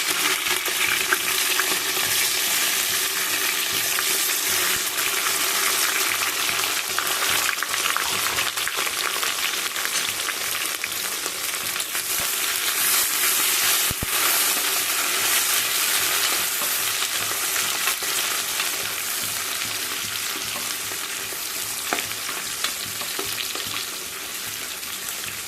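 Onions frying in spice-laced oil for a green chicken biryani, a steady, close, dense sizzle with a constant crackle that runs unbroken throughout, with no talking.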